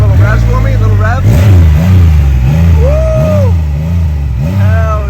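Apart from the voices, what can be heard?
new motorcycle engine revving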